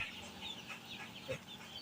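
Chickens and chicks on a Bangladeshi poultry farm give faint clucks and soft peeping over a low background hum, briefly and at a distance.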